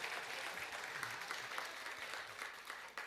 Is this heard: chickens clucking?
no